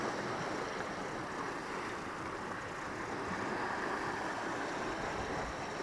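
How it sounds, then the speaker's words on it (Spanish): Sea swell washing against a rocky shoreline at night, where squid and cuttlefish are being fished, gives a steady broadband roar of surf that fills the whole stretch with no distinct breaks and no talking. "hay un poco de oleaje"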